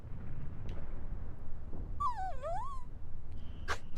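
A dog whimpers in the video game Final Fantasy VIII: a single thin, wavering whine that dips and rises for under a second over a steady low background hum.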